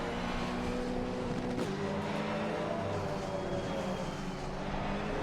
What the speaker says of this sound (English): Like it's got a massive engine and it's lumbering it around.